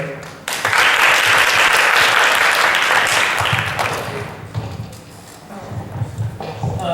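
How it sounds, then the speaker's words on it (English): A crowd applauds to welcome a vice president taking the stage at a school English speech contest, a loud burst of clapping that swells, holds for about three seconds, then thins and fades into room noise. "let's give Dr. Liu a big round of applause to welcome Dr."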